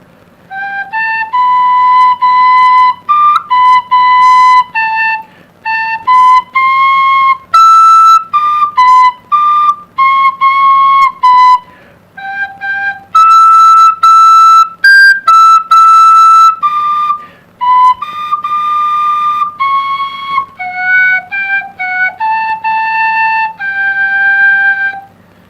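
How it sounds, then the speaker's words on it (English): A tin penny whistle is practiced in clear, loud melodic phrases, with held notes and short runs broken by brief pauses, sounding close and alone with no talk. "Intro to tin whistle."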